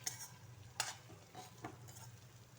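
Masala brinjal being stirred in a pan, a few scraping strokes of a spoon against the metal over a low, steady sizzle of frying, close and fairly quiet with no talking.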